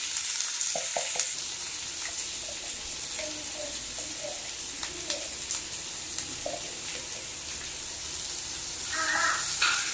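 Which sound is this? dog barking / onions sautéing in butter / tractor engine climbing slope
onions sautéing in butter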